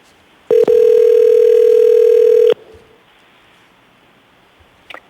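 Telephone dial tone heard while a call is placed from a public zoning board hearing, a single steady loud tone lasting about two seconds and then cutting off, leaving quiet line noise.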